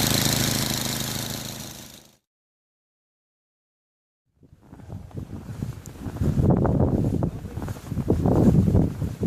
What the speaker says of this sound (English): I'm in the turtle or the creek speed of the snowblower here.